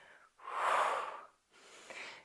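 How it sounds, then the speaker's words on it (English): Deep breathing during a Pilates exercise: one long loud exhale followed by a softer, shorter breath, close and with no talking. "Deep breathing here."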